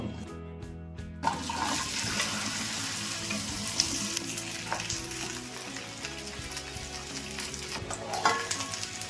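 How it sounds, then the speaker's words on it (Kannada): Okra sizzles and crackles steadily in hot oil in a pan, with a few louder pops and stirring scrapes over about nine seconds, close and fairly loud with no talking. "ಇವಾಗ ಇದನ್ನು ಬೆಂಡೆಕಾಯಿ ಹಾಕ್ಕೊಂಡು ಹುರ್ಕೊಳ್ಳೋಣ."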